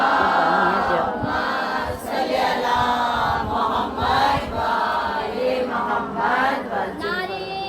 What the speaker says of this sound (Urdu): بآواز بلند نعرے صلوات